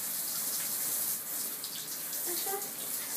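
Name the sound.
children's shower head running water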